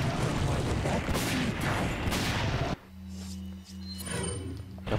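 Gunshots fired at Salazar's tentacle during a boss fight in Resident Evil 4, a loud dense stretch of gunfire and blasts that cuts off abruptly into a quieter low-pitched hum.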